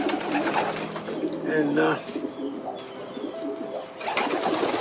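Pigeons kept by a bird flyer in Vero Beach coo in soft, low, rolling bursts, close and moderately quiet. A voice speaks briefly over them, with a faint flutter of activity around.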